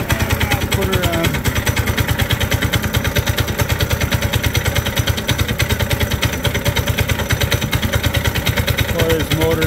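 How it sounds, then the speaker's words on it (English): A track sled's small motor runs rough in freezing cold after a half-choke warm-up, a loud, fast, uneven putter of sharp pulses that sputters steadily, with someone speaking briefly over it. "Boy, this motor does not like the cold."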